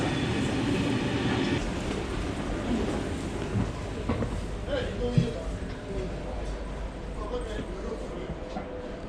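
A train in France running into a station makes a continuous low rumble with rattling and a few metallic clanks, heard from nearby while people talk over it.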